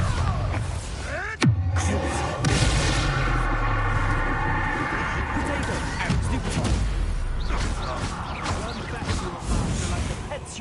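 A Bombarda explosion spell in Hogwarts Legacy: a sharp blast early on followed by a steady din of magical booms, crashes and game effects, with talking under much of it.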